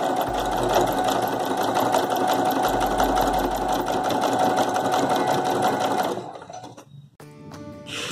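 A sewing machine runs fast and steady, stitching a straight line on dupatta fabric with a rapid mechanical chatter, then stops after about six seconds, leaving brief clicks and handling noises.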